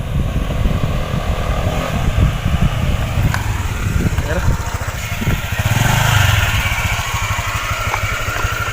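A Honda Click 125 scooter engine idles and revs nearby with a steady rattling thrum, rising briefly midway, while people talk over it.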